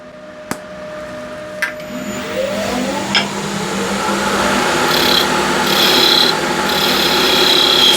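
A wood lathe spins a wooden salt shaker as it is thinned down, giving a steady whirring hum with a rising broadband scraping hiss from the cutting tool and a few sharp clicks early on, no talk.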